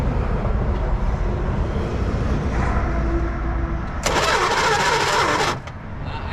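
1966 Dodge Dart that sat parked for 25 years, its engine grinding through a burst of cranking over a steady low rumble, loud and close, then dropping off abruptly.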